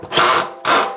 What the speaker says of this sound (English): drill that down until I get to a 1/2 inch hole on my step bit